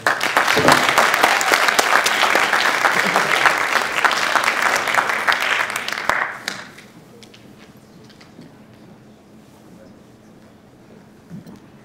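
Audience applause welcoming a speaker at a Model UN conference, a loud, dense burst of clapping that lasts about six seconds and then drops away to a quiet room.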